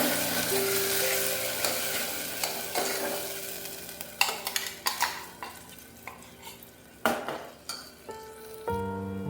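Green paste frying in a little oil in a pot, with a soft continuous sizzle broken by sharp scrapes and clinks of a spoon stirring against the metal, loud and close with no talking.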